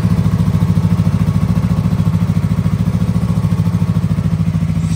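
A 2017 Yamaha R3 motorcycle engine idles with a steady, loud, rhythmic chugging throughout, close to the listener.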